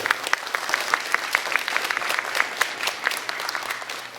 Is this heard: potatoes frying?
no